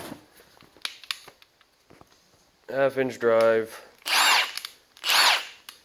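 Milwaukee M18 Fuel half-inch drive cordless electric impact wrench, rated at 1400 foot-pounds of breakaway torque, fired in several short bursts: a hammering whir, then two sharper loud blasts, following quiet handling noises.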